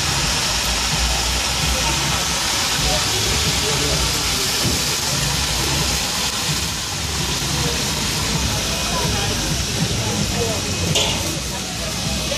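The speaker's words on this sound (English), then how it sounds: "Breadfruit frying, fish frying." Breadfruit and fish fry in a pot over a fire at a Jamaican street food stall in Bog Walk, a loud steady hissing sizzle that fills the scene, with someone talking over it.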